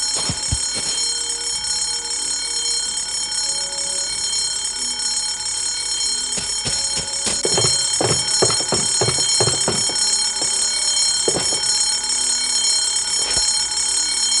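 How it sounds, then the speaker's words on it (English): A fire alarm in the Escape from Monkey Island video game rings loud and continuously throughout, with sharp clattering hits layered over it in the middle. "That fire alarm is not a toy, Mr. Threepwood."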